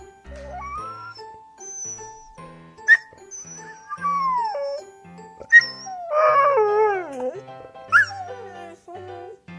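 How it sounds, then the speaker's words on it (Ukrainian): A dog with an injured paw whimpers and howls plaintively in rising and falling wails, with short sharp yelps between, fairly close and clear. "А якщо собака поранив лапку, як він буде гавкати? Так, жалібно."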